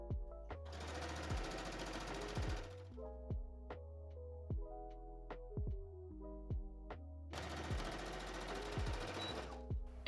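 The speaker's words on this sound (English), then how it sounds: "now we're going to sew all of these seams" Sewing machine stitching the seams of a cottagecore dress bodice, running in two loud sustained bursts of rapid stitching at the start and end, separated by quieter clicks and handling sounds.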